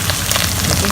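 Coriander leaves frying in a hot pan over a high flame for Maharashtrian sukha besan pithla, giving a brief, steady, close-up crackling sizzle.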